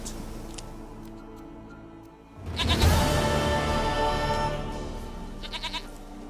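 A goat in a video game bleats in a few short, wavering cries over a busy layer of game music and ambient sound.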